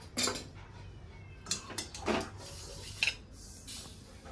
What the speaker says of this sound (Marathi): तर आता एका प्लेटमध्ये मला काढून घेते।